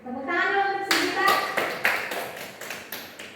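Classroom applause for a student breaks out after a brief burst of children's voices, a ragged round of hand claps that gradually thins out.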